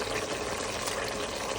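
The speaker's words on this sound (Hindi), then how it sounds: "और पानी, और यखनी छन रही है और इसमें डल रही है" Homemade beef stock (yakhni) strained and poured into a pot of tomatoes for beef pulao, a steady continuous splashing pour of liquid throughout, close and moderately loud with no speech.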